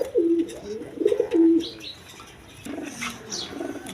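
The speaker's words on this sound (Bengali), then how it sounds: "এখানে এক পেয়ার গররা কবুতর আছে" Pigeons coo in a few low, throaty bursts, with a faint chirp or two and some light background noise between calls; they are red-coloured Gola pigeons, a male and a female pair.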